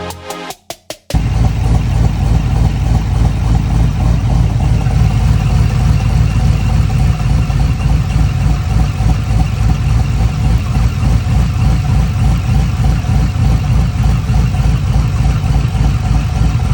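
A Corvette's engine runs steadily through its exhaust, a loud, continuous low rumble with slight rises in revs, after a few brief bursts at the very start.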